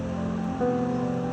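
Bhatinda waterfall in Jharkhand spilling over large rocks, a steady broadband wash of water with some tonal hum underneath, continuous and fairly close.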